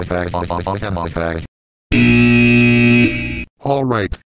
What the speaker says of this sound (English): That's our time's up buzzer, meaning that our time is up